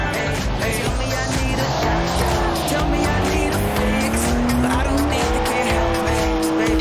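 A rear-wheel-drive BMW in Forza Horizon 4 drifting, with a loud, steady engine roar and sustained tire squeal that sweeps up and down through the slides.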